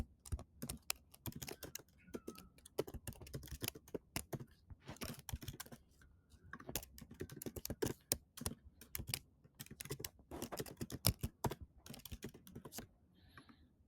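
Fingers typing on a computer keyboard while signing in to an account, a steady, fast stream of close key clicks with brief pauses, alone and without any talking.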